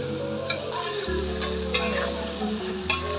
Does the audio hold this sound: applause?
no